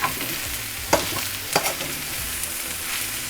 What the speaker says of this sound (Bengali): দেখেন এটা নাইসলি একদম ভাজা ভাজা হয়ে এসছে, কড়াইয়ে হালকা হালকা লেগেও গিয়েছে।